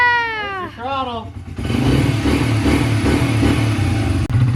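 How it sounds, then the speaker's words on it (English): Motor scooter engine starts and revs after a throttle repair: a loud, steady engine roar rises at about a second and a half and holds to the end, preceded by a high, wavering vocal sound. "then vroom vroom vroom, you've got your throttle put back together"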